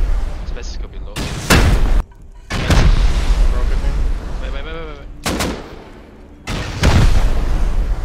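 Rocket explosions during a Rust raid: several heavy, loud booms arrive at intervals, each with a long rumbling tail, with quieter clatter and gaps between blasts.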